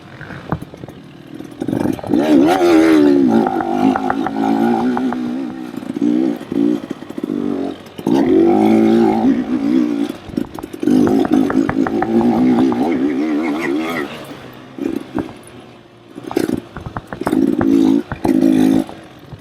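A Beta dirt bike, ridden in comparison with a KTM, blares nearby as its engine revs in repeated loud surges with brief drops between throttle bursts.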